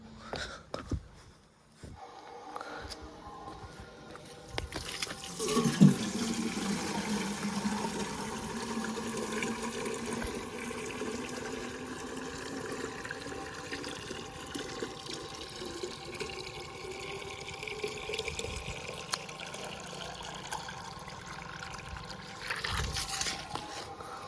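Water runs in a steady, continuous stream, pouring and splashing for a long stretch with no talking.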